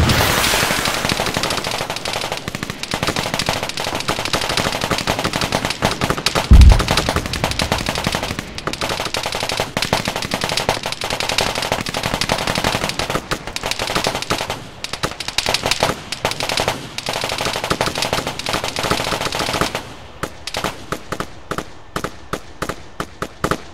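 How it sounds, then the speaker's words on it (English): Machine guns laying down suppressing fire in a military video game battle, dense rapid bursts of automatic gunfire that rattle almost continuously, with a heavier blast partway through and the shots thinning into separate bursts near the end. "Give him some suppressing fire, even if you can't hit them."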